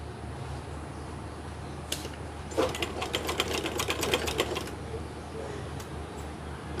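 A sewing machine stitches a kameez collar with paper buckram, a brief burst of rapid, evenly spaced mechanical ticking in the middle against a quiet room background.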